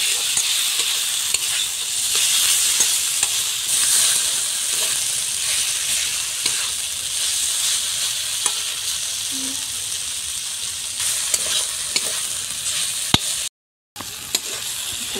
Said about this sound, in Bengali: এখন আমি ভেজে রাখা ঢেঁড়স কটা দিয়ে দিই